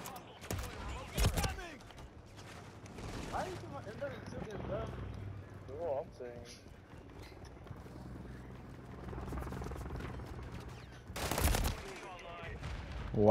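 Scattered gunshots in Modern Warfare 2 come as a few sharp, loud cracks near the start and again later, with a player talking over quieter game noise in between.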